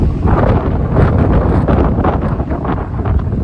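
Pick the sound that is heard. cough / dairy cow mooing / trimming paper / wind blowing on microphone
wind blowing on microphone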